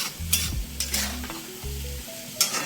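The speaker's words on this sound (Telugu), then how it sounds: "ఫ్రై వేగుతుంది. ఇవి కొంచెం ఎర్రగా వేగాలండి బాగా." Onions fried with gongura leaves in a pan give off a soft sizzle, stirred a few times with scraping strokes and faint clinks. The sound is near and fairly quiet, and no one talks.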